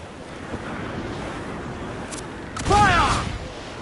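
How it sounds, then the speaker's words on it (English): Strong wind blows at sea in Assassin's Creed Black Flag, a constant roar of gusts over waves, with a louder surge near the end and a voice briefly calling out. "The wind is picking up nasty."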